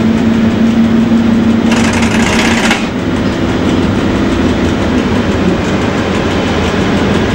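Train running fast through rail switches, heard from inside as a loud, constant rumble and rattle of wheels with a steady hum, briefly shifting in tone partway through.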